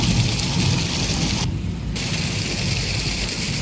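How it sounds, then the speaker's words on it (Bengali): Steady monsoon rain pours down in a dense, continuous hiss, with a faint low rumble underneath that may be distant thunder; the wash briefly dulls midway before resuming. "জল যেমন পড়ছে, তার সাথে মেঘের গর্জন, বিদ্যুৎ চমকানি"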